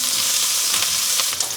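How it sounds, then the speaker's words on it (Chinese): Scallion, ginger and garlic hit hot oil in a wok with browned pork belly, giving a loud, close, continuous sizzle broken by scraping stir-fry strokes, for a dry-pot zucchini dish. "我们就下入葱姜蒜，给它爆香"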